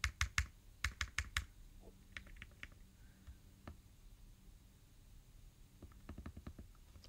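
Faint computer keyboard typing while a file is edited, quick bursts of crisp key clicks with pauses between, ending with another run of taps, no voices.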